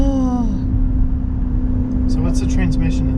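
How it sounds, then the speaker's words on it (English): A Maserati Levante Trofeo SUV engine rumbles steadily with a falling then steady tone as the ZF eight-speed automatic downshifts, heard from inside the cabin while people talk over it. "Downshift."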